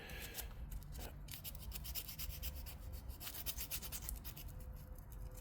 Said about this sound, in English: you can always use a little piece of sandpaper like this